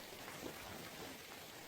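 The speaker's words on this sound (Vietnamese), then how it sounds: "Trên trời bắt đầu lất phất mưa." Light rain falling in an open canyon, a soft continuous patter and hiss at a steady low level with no voices.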